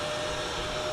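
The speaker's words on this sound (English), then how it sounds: "Then I'll turn on my HEPA vac" A HEPA vacuum attached to a mixing bucket runs as a steady, loud whooshing drone with a constant motor whine, close up and alone.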